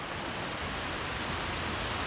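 Steady rain falls outside, a dense even hiss of drops on surfaces that holds at moderate loudness for the whole stretch with no talk over it.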